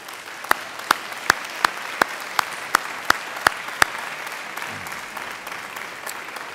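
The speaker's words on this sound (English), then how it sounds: "turn around and face your family and friends and give them a mighty round of applause" Graduates at a graduation ceremony applaud their family and friends: a steady wash of crowd clapping through which sharp, evenly spaced clicks stand out for about four seconds before they stop.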